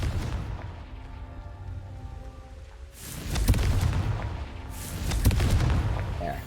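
Confringo spell blasts go off in Hogwarts Legacy: two heavy, booming explosions a couple of seconds apart, loud and rumbling, each fading out with a long low roar.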